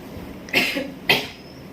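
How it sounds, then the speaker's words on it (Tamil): Two sharp coughs, about half a second apart, close and clear over quiet background hiss. "என்ன இருமுற? இருமலடா உருமுற."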